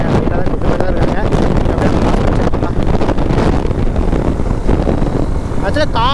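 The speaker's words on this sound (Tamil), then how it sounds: "எனக்கு தெரிஞ்ச ஒரு நல்லா காற்று அடிக்குதுங்க" Strong wind buffets the microphone during a ride on a 2025 Honda NX200 adventure bike, a loud, constant roaring rumble with the engine buried beneath and no pauses.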